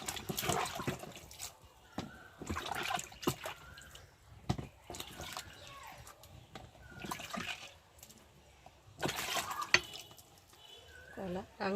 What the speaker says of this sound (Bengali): তো দেখো তার জন্য আমি এখন ফলগুলোকে ভালো করে ধুবো।